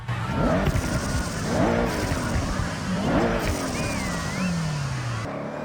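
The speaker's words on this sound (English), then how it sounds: "the sound of the turbo under load is so good" Toyota GR GT engine and turbo under load in Forza Horizon 6, a steady loud car drone rising through repeated gear pulls with rhythmic revving sweeps and a faint whistle, sustained throughout.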